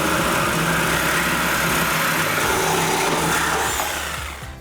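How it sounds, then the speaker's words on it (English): A power tool cuts through the axle-back exhaust pipe of a Chevrolet Camaro fitted with a Corsa Performance Xtreme exhaust, giving a loud, steady, harsh grinding roar that runs continuously before easing off at the end. "we can make our cut on our other pipe."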